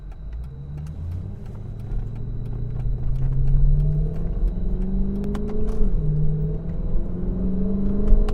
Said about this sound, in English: If I hit the paddle, we're in auto stick now. So now I can shift down, down, all the way to first.